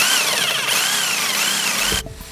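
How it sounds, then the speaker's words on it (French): A power drill unscrews bar fittings with a loud, close, wavering whine that runs continuously for about two seconds, then stops abruptly. "Alors attends, là, il faut dévisser cette fois."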